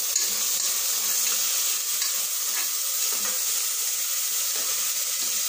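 Tomatoes frying in butter in a pan for Bangalore-style tomato bath make a constant loud hiss and sizzle with faint stirring scrapes, and no one speaks.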